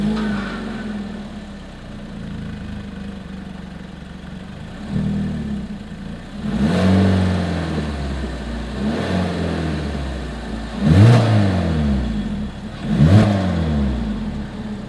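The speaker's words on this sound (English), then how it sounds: "As always, here is that exhaust clip." A 2022 Hyundai Kona's exhaust blips through several sharp revs, each rising and falling quickly over a steady idle, recorded close at the tailpipe with no talking.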